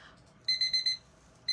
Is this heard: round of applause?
no